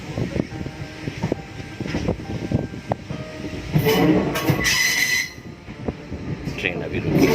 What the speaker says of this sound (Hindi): ट्रेन अभी रुकी।